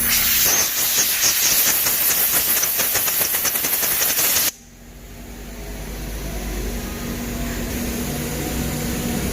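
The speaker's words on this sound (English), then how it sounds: "I'm going to start by using a little compressed air to blow this off." Compressed air blasts in a loud, close, steady hiss for about four seconds as it blows dust off the top and bottom trim inserts of a machine, then cuts off abruptly, leaving a lower background hum.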